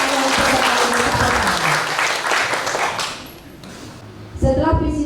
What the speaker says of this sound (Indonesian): Sekali lagi kami mohon tepuk tangan kepada kedua pasangan peserta.